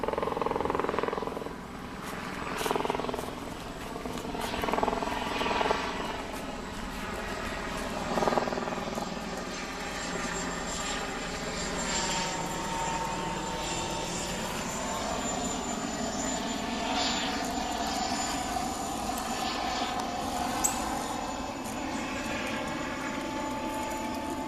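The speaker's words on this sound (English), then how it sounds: "What the hell's that? Helicopter." A helicopter flies overhead outdoors, heard as a steady, moderately distant rotor and engine drone that holds for over twenty seconds, swelling slightly at times with no talk over it.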